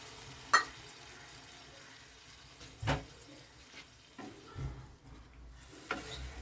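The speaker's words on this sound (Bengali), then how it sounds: "এখন এর মধ্যে আমি পরিমাণ মতো জল দিয়ে দিচ্ছি" Water poured into a pan of frying tangra fish curry with radish and coriander sets off a soft sizzle, with several scattered spoon knocks and stirring sounds spaced across a fairly quiet stretch.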